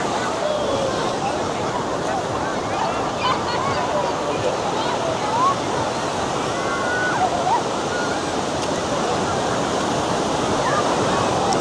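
Surf rolling onto a Southern California beach, a loud continuous roar of breaking waves and wash that fills the whole stretch without pause.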